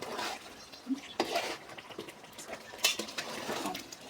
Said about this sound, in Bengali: এই তো এখন নাড়াচাড়া দিতেছি